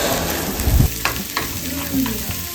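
Onion, ginger and garlic frying in a pan for aloo paratha filling, a steady close sizzle with a few scraping stirs and clinks of a spoon.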